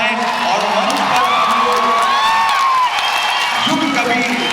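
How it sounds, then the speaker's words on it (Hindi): A large crowd at a Hindi poetry gathering (kavi sammelan) bursts into loud applause, cheering and whistling, with shrill whoops riding over the roar of clapping and voices. "ये घनघोर तालियां आप उन तक पहुंचाएं"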